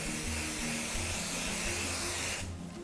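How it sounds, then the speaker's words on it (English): A continuous hissing spray from an aerosol cooking spray can coating a baking tray runs for a couple of seconds, then cuts off abruptly, leaving faint background noise. "Just take a little cook and spray and gently spray it around the whole tray."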